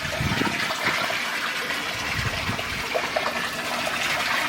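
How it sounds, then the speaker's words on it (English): Water leaks from a 25-watt Evolution Aqua UV filter on an aquarium setup. It gives a steady rushing, trickling stream that runs loud and unbroken throughout. "We've got some sort of leak going off here"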